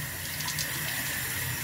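Lukewarm water running steadily from a bathroom tap for face washing, a continuous broadband hiss and splash at close range, fairly quiet and unbroken, with no one talking.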